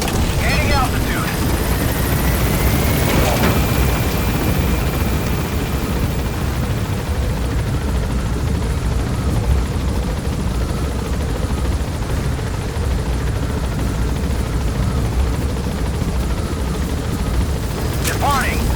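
A helicopter in Metal Gear Solid V climbs away from a landing zone, its rotor roar loud and constant for the full stretch, with a few distant booms and a voice speaking over it.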